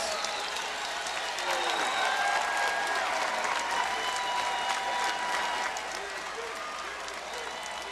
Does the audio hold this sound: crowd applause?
yes